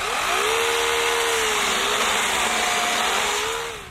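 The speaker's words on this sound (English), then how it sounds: "We've got a 40-volt chainsaw here from Teccpo." A Teccpo 40-volt battery chainsaw running steadily, a loud continuous whine with a slowly wavering pitch, close by, then winding down at the end.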